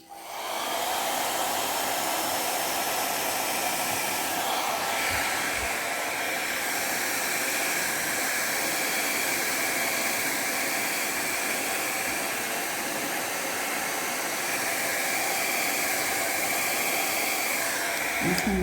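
A hair dryer blows steadily and loudly across wet fluid art paint in a cherry blossom pour, a continuous airy roar holding for the whole stretch with only slight shifts in tone.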